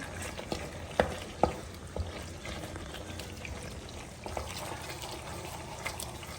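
Broccoli and onion sizzle quietly in a pan, a soft steady fry broken by a few sharp clinks and scrapes of stirring, with no talking.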